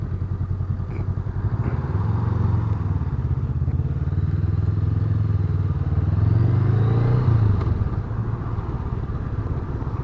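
A 2019 Honda Rebel CMX500 motorcycle passes outdoors, its low engine rumble building as it approaches, peaking loudly near the pass, then dropping away as it rides off.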